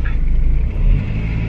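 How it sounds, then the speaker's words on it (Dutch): A car approaches along a road, a close low rumbling engine that swells slightly and holds steady for a moment, with no talk. "Er komt volgens mij een auto aan."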